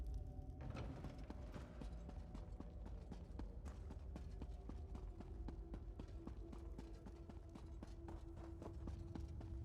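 Horse hooves clip-clop steadily in the video game Elder Scrolls Online, a fast, even rhythm of close hoofbeats with creaking tack and a low background hum throughout.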